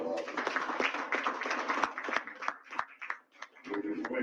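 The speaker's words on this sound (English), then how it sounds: "Labour deserve another round of applause." Scattered, uneven clapping comes from a gathering at an election results event, with individual claps audible over overlapping voices and a brief lull near the end.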